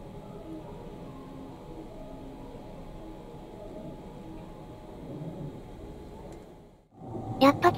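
A train rumbles steadily past through Shin-Osaka station, a low continuous roar that fades out near the end, followed by a few sharp knocks.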